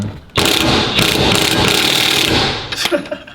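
An impact wrench hammers on rusted exhaust bolts in short, loud, rattling bursts, with a brief pause near the end. The work is close by, with no talking.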